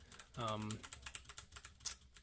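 Typing on a mechanical keyboard fitted with rubber O-rings, producing a quick run of soft, muted clacks after a short burst of voice at the start.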